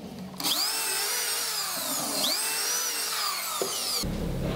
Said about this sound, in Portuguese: Para escariar, você deve inclinar a furadeira no ângulo da furação.